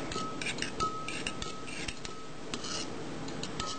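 A spoon stirs rice pudding in a pot, giving soft, irregular scrapes and light metallic clinks against the pot, faint and close, with no talking.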